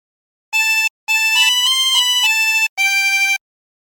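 Chromatic harmonica playing a short phrase of Be Thou My Vision, three reedy, bright held notes and note groups separated by brief breaths, close and loud with no talking.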